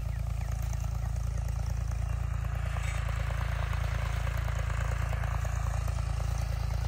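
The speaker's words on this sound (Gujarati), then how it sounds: "ટ્રેક્ટર હાલે ને માંડવી ભેગી કરવાની મજા." A tractor engine runs steadily nearby in a groundnut field during harvest, a continuous low mechanical drone that stays even throughout with no talk over it.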